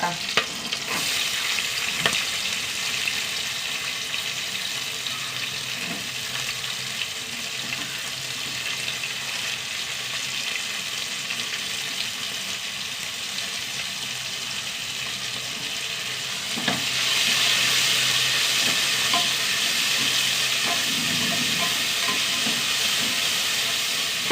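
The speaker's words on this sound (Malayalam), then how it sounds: "ഉള്ളി വഴണ്ട് വരട്ടെ" Two onions sautéing in a pan for a quick curry, giving a steady, dense frying hiss close by that grows slightly louder partway through, with occasional stirring clatter and no speech.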